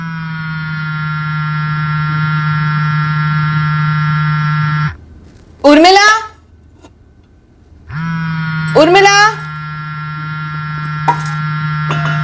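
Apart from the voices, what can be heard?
mobile phone ringing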